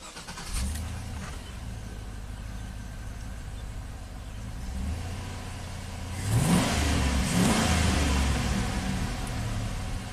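A GM truck engine with misfires on cylinders 2 and 6 cranks and starts, then settles into a rough, uneven idle that swells briefly as it revs, heard up close.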